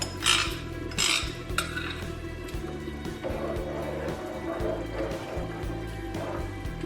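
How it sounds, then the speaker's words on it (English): Rice is tipped into a pot of restaurant-style lamb biryani. Several sharp scrapes and clinks of a utensil against the pot sound over a soft liquid bubbling and stirring, with a low hum behind. "we're going to add in the rice"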